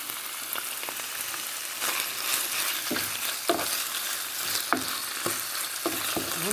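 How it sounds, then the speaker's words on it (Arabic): Chicken pieces fry with browned onion and garlic in oil, a steady close sizzle with sharp spoon scrapes and taps against the pan throughout. "دابا غادي نزيد عليها الدجاج اللي قطعنا طريفات ونخليهم حتى هما يتساجموا مع بعضياتهم"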